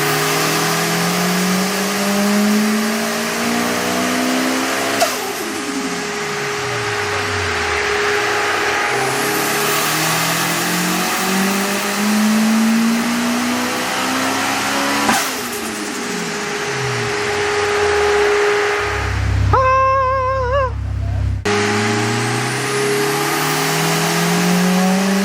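Nissan S15 fitted with a big turbo and anti-lag, loud engine revving up and down in repeated sweeping pulls with a sharp crackling burst near the end, close and dominant with no talking.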